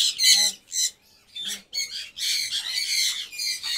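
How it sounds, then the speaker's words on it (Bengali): Caged silver pheasants and doves give sharp, repeated squawking calls in short close bursts, loud against brief quiet gaps, with no talking. "এই হচ্ছে ফিজেন্ট এবং ঘুঘু পাখিদের খাঁচাটা।"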